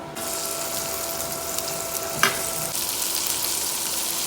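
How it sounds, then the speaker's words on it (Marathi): Okra being tempered in hot oil, a loud, continuous close-up sizzle with a brief sharp spatter midway and no one talking. "तेल तापलंय पटकन भेंडीच्या भाजीला फोडणी देऊन घेते"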